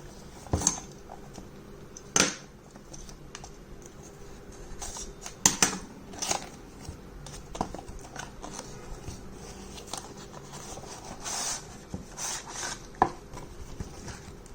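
A Fire TV Stick is unboxed, with quiet, close crinkling, tearing and scraping of cardboard and plastic packaging, punctuated by scattered sharp clicks and taps of pieces being handled.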